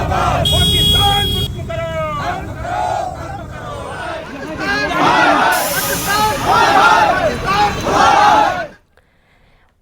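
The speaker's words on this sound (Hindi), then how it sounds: "महाराजगंज में भी पूर्व सैनिकों ने पहलगाम हमले की कड़ी निंदा की और पाकिस्तान के खिलाफ मुर्दाबाद के नारे लगाए गए।" A crowd of ex-servicemen in Maharajganj chants slogans against Pakistan after the Pahalgam attack. Loud massed voices shout in a rhythmic call-and-response over street noise, then cut off abruptly near the end.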